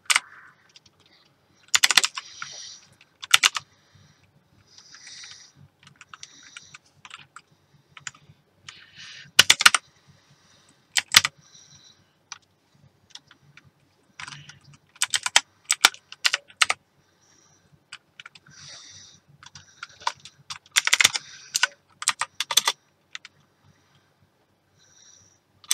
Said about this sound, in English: now we need to type a key